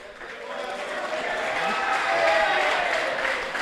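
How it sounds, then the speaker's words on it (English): An audience claps at a sports club awards presentation, the applause swelling to a sustained, moderately loud patter of many hands before tailing off slightly. "Round of applause from Javid."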